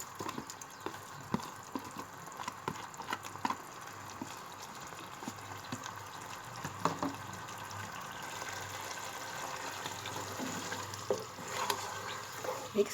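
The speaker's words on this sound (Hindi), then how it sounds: "मिक्स करते हैं प्याज को।" Fried onions being stirred into beef and bottle gourd curry in a pot, a soft, steady sizzle with faint scraping and clinking of the spoon against the pot.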